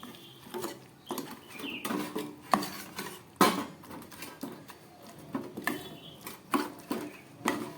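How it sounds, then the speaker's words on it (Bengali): Prawns, tomato and spices mixed by hand in a bowl, giving wet squelches, soft slaps and light clinks against the bowl in an irregular rhythm, close and fairly quiet. "খুব ভালো করে এবার এটাকে মেখে নিতে হবে।"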